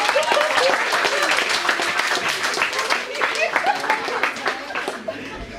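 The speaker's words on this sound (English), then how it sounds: "Could you guys give Chuk a round of applause for that?" Audience at a domestic violence workshop gives a sustained round of applause, dense clapping filling the room with some chuckles and voices mixed in.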